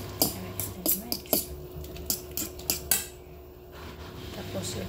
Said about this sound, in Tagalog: Tapos mixing.